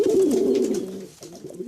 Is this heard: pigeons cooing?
yes